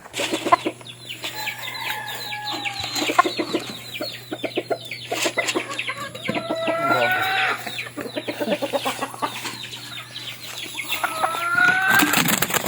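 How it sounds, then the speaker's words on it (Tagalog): Mother hen clucking in a backyard pen with other chickens around, repeated close clucks and calls in irregular bursts, with a faint steady hum beneath. "Maingay na yung kanyang inahin."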